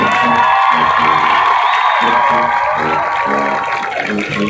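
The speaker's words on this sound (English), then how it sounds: "Please give our 2024 homecoming court a big round of applause" A stadium crowd at a high school football game cheers, whoops and claps for the 2024 homecoming court, a loud continuous wash with tonal stadium music or horns sustained underneath throughout.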